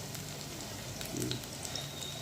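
Pakoras frying in oil, a faint, even crackling sizzle that runs steadily throughout with only slight swells.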